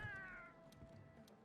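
A housekeeper cat in a room in the video game Monster Hunter World gives one clear meow that trails off. Faint game ambience continues underneath.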